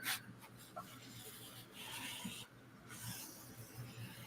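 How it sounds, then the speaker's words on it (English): Someone sands a plastic part from a Walthers Chocolate Factory model kit, making soft, close scratchy rubbing strokes that come in uneven bursts. "Do some sanding."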